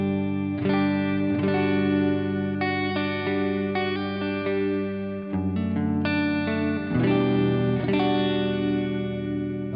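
A clean electric guitar plays through a Tank-G pedal with an IR cabinet simulation and reverb in a hybrid setup, steady strummed chords and ringing notes with a bright, lightly echoing tail.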